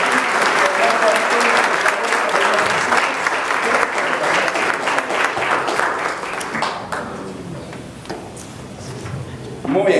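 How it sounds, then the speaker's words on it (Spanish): A church congregation at a morning service breaks into sustained loud applause, many hands clapping together for several seconds before it thins out, with a voice speaking over the crowd. "Le damos un fuerte aplauso al Señor"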